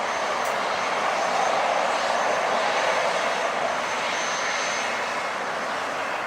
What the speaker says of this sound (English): That's a beautiful plane.